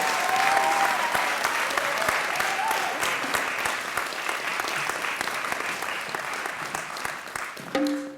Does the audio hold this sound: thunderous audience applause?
yes